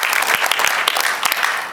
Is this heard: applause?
yes